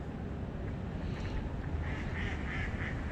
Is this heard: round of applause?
no